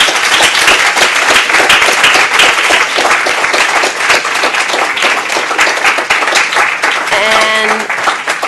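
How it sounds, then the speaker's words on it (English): An audience at a development award ceremony breaks into sustained applause, dense loud clapping that fills the room and carries on steadily. "Would you all join me in a big clap for Geeta"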